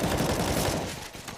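Rapid bursts of gunfire crackle in a Counter-Strike match on the Nuke map, a dense volley of shots that fades slightly toward the end.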